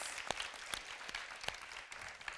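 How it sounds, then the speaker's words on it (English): Audience applause in a conference room at a leadership event, a soft continuous patter of clapping with a few sharper individual claps, fairly faint and alone. "a huge applause to each of you here in this room as well,"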